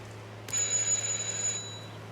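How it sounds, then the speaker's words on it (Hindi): A doorbell rings in the stealth game Hitman 2 at a Vermont house: one bright electronic chime starts suddenly, holds for about a second and then fades, over a quiet steady hum. "All right, just ring the doorbell."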